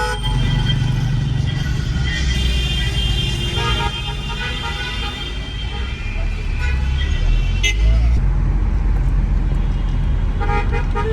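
Car horns honk repeatedly in dense Cairo traffic, short toots and longer blasts overlapping above a steady roar of engines and road noise, with voices mixed into the busy street din.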